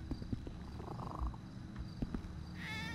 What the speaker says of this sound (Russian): Еще одна кошка.